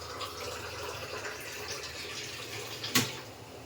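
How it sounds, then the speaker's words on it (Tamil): Measured water pours steadily into a pot of tomato biryani, a continuous close rushing sound that ends in a brief louder splash. "இப்போ தண்ணி எடுத்து அளந்து ஊற்றிடலாம்."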